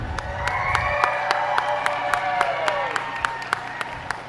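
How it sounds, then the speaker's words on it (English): Crowd applause at a youth dairy goat show for junior showmen, steady clapping with some cheering and children's voices, plus a rising and falling tonal whistle-like sound over the clapping near the middle. "give these junior showmen a huge round of applause"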